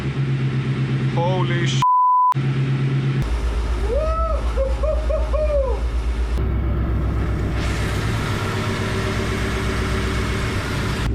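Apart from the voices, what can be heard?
Peugeot 305 engine starting and running after new spark plugs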